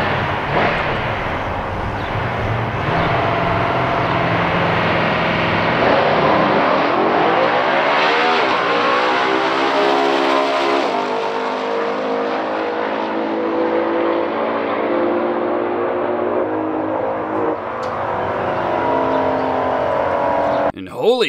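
A 1971 Hemi Cuda and a 1963 Plymouth Savoy Max Wedge drag race, engines roaring and revving continuously, pitch climbing steadily as they accelerate hard, close and overwhelming for about twenty seconds.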